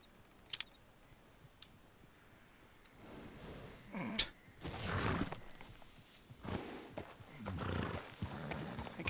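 Horse in Red Dead Redemption 2 clip-clopping in irregular bursts of hoof steps, with snorts and breathing and occasional sharp ticks, moderately close.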